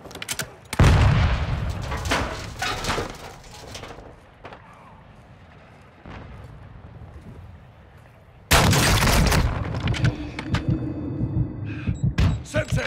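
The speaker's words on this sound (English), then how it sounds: "Taking fire!" Gunfire in Call of Duty DMZ: sharp loud shots and a booming burst early, a quieter stretch, then another heavy volley followed by scattered rapid shots.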